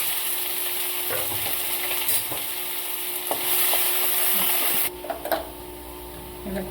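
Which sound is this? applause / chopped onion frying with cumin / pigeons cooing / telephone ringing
chopped onion frying with cumin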